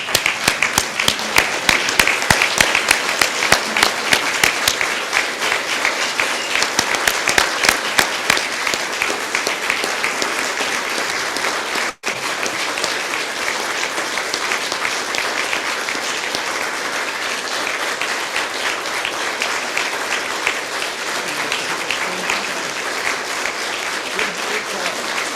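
Sustained applause from a Rotary Club audience standing to congratulate Kathy Tate, dense and steady clapping throughout with crowd noise and some voices mixed in, a brief dip midway.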